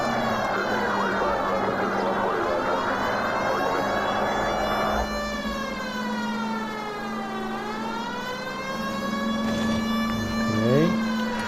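A police car siren from the video game L.A. Noire wails loudly and continuously, its pitch sweeping up and down over a low engine hum.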